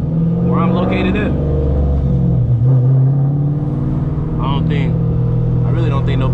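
A cammed 2005–2010 s197 Ford Mustang GT with a three-valve V8 rumbles and revs deeply, loud and close, under someone talking.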